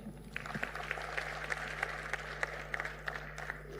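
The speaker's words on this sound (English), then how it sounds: "A big hand clap." Audience applause at a national safe motherhood conference hall, a steady wash of clapping with scattered sharper claps, moderately distant and fairly quiet, continuing evenly for a few seconds.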